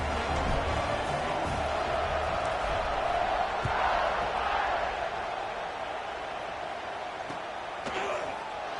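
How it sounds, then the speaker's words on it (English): A stadium crowd in the College Football 26 video game keeps up a steady, loud buzzing roar through the whole stretch, with no voices standing out above it. "this crowd is buzzing after that last score"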